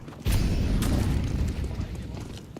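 An incendiary grenade from Counter-Strike lands with a loud low boom, followed by a sustained roaring, crackling burn that fades slowly over a couple of seconds.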